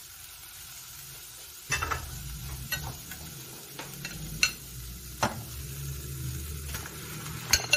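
Ground beef added to a pan of sautéed aromatics and frying, a low steady sizzle punctuated by sharp clacks of a utensil against the pan; a brief spoken exclamation comes in at one point.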